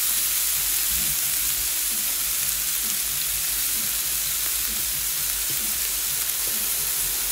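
Food frying in oil on a grill gives a steady, dense sizzle and crackle throughout, close and constant, with no talking.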